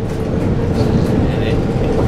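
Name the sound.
riding on a train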